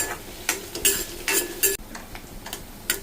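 Green chillies, onions and curry leaves fry in hot oil and are stirred with a spoon, giving bursts of sizzle and scraping strokes against the pan, then a quieter simmering hiss.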